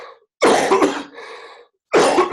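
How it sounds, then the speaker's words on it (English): A woman coughs twice in close succession, each burst loud, harsh and rough at close range, with a short raspy throat-clearing tail between them and brief silence around. "I so apologise for this cough."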